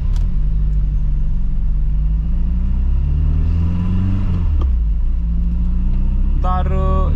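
A BMW E21 engine drones steadily from inside the car while driving, its pitch rising and falling through gear changes, with someone talking over it throughout.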